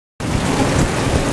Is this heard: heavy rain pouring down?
yes